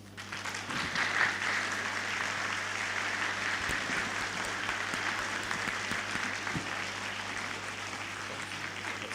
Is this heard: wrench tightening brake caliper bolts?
no